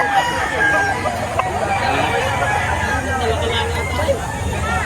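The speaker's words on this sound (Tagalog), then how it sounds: "Manok po." Roosters crow among fighting cocks for sale at a market in Lipa, Batangas, with drawn-out calls over constant crowd babble and people talking nearby.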